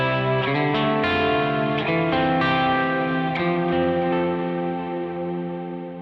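Electric guitar re-amped through shimmer reverb and analog delay, sustained chords and single notes blooming into a dense, washy, long-decaying tail, loud and continuous with no talking.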